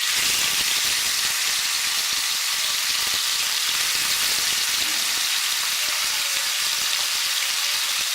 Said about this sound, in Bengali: এবার এর মধ্যে আমি এই হলুদ দিয়ে নুন দিয়ে মাখা চিংড়ি মাছটা হালকা করে ভেজে নেব।